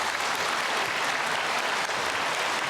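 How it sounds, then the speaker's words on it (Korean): A church congregation applauding to welcome a speaker to the front for a baptism testimony, a dense, sustained roar of many hands clapping that stays loud and even from start to finish. "나오실 때 우리 모두가 다 따뜻한 박수로 환영해 주십시오"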